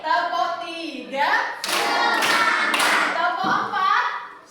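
Young pupils in a classroom clap along to a teacher's counted concentration drill, a cluster of sharp hand claps breaking in between her spoken counts, fairly close and loud.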